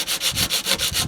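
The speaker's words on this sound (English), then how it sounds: "so I'm going to have to sand that off" Rusty patch of car paint being sanded with coarse 80-grit sandpaper, a loud rhythmic back-and-forth rasping with strokes about every fifth of a second, close up and without talk.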